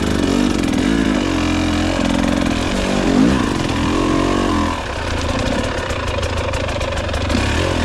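A KTM 300 TBI two-stroke dirt bike running a TSP ECU tune roars along a trail, loud and close, its engine note rising and falling with throttle changes.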